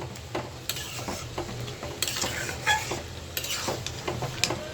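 A spoon stirs curry in a pan just after garam masala goes in, with scraping strokes over a steady sizzle close by, and occasional sharper knocks against the pan.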